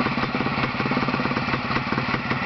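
A small engine runs on a test stand, idling with a fast, even, rough putter that stays loud and close throughout the short stretch.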